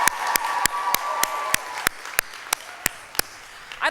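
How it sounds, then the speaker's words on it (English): Scattered clapping from an assembly audience at an American Legion Auxiliary Girls State evening session, with sharp, irregular hand claps spread over a few seconds and thinning out as they go. "so we can give you a round of applause"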